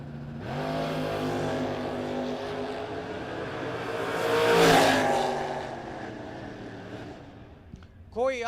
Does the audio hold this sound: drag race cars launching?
yes